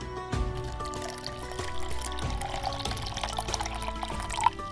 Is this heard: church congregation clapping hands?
no